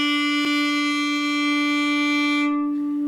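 A violin sustains a single bowed open string, one even, steady tone held for about three seconds with rich overtones and no talk.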